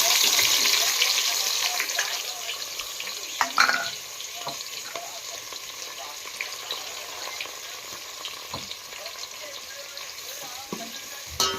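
Chopped onions, green chilies and masala leaves fry in a pan for Bihari chicken with a steady, close sizzle that fades a little over time, broken by occasional knocks and scrapes of a stirring spoon.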